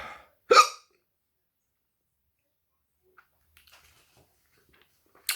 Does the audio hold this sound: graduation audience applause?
no